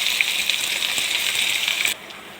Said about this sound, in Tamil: பூண்டு சிவந்தவுடன் வெங்காயத்தை போட்டு பொன்னிறமாக வறுக்கவும்